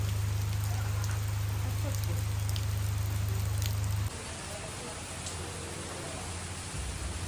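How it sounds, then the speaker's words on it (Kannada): Steady monsoon rain at a resort in Kabini: an even, continuous hiss of drops on surfaces, with a low hum under the first half and no talking. "ನನಗಂತೂ ಈ ಮಳೆ ಸೌಂಡು ಜಿರಿ ಜಿರಿ ಜಿರಿ ಅನ್ನೋ ಒಂದು ಸೌಂಡ್ ಕೇಳೋದಕ್ಕೆ ಒಂಥರ ಖುಷಿ ಆಗುತ್ತೆ"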